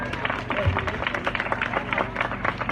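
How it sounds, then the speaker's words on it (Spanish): A church congregation at a Spanish-language service claps together in a dense, steady round of applause, with crowd voices mixed in beneath. "dándole un aplauso fuerte al Dios de la gloria"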